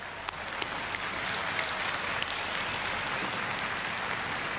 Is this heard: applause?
yes